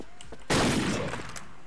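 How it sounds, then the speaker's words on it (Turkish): Machine gun fire in a Turkish shooter video game lets out one sudden, loud broadband burst that rings and fades over about a second. "Yo, makinalı tüfek ya,"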